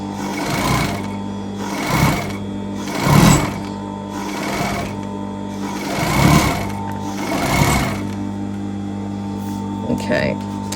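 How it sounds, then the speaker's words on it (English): An industrial cover stitch sewing machine runs in a loud, steady hum, broken by several rhythmic swells of stitching a couple of seconds apart, with a person talking over it. "It is a cover stitch."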